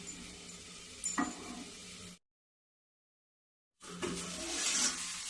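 Khas khas matar curry with kasuri methi cooking in a pan, a steady soft sizzle with stirring scrapes, broken by a stretch of total silence before the frying resumes.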